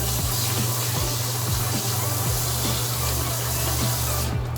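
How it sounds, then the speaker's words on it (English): A diaper sprayer sends a steady, forceful spray of water hissing continuously into a toilet at close range, with a faint low hum and rhythmic ticking underneath. "spray downward until everything comes off of the diaper"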